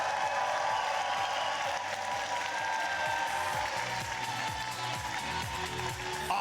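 Audience at an FTC Benelux League robotics championship cheering and clapping for event volunteers, a dense, steady wash of applause and crowd noise filling the hall throughout.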